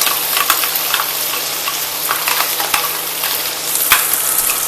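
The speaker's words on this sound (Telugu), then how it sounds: "దీంట్లో ఇది మొత్తం ఆయిల్లో బాగా ఫ్రై కావాలన్నమాట" Masala paste frying in oil with stuffed eggplant pieces for gutti vankaya, a steady broadband sizzle with scattered stirring clicks and scrapes, close and continuous throughout.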